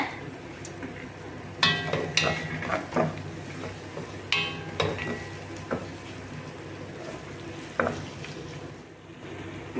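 Ginger, garlic, green chillies and curry leaves sautéing in a pan, a steady low sizzle punctuated by several stirring clatters of a spoon against the pan, with talking over it.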